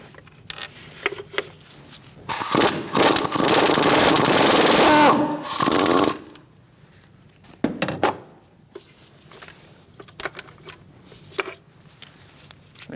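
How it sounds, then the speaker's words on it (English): Power ratchet or impact tool spinning out 18mm transmission mount bolts on a 2016-2019 Chevrolet Cruze 1.4L: a loud steady whir of about four seconds, then shorter bursts and clicks of metal tools in a quiet garage. "Now we're going to remove our bolts. Use an 18mm socket."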